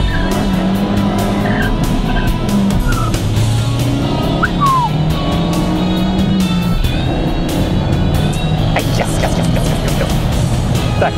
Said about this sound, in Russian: Ну что, попробуем немножко дрифтануть, да?